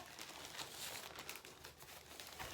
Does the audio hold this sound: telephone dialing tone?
no